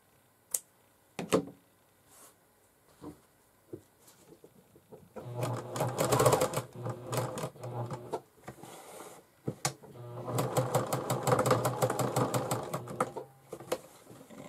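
A sewing machine stitches lace onto a fabric bag, two sustained bursts of rapid mechanical needle clatter after scattered handling clicks and taps, close and clear with no one speaking.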